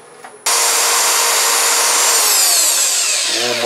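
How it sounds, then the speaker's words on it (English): After a quiet moment, wood sanding starts abruptly with a loud, continuous abrasive rush that stays steady to the end. "now all we've got to do is a little hand sanding here."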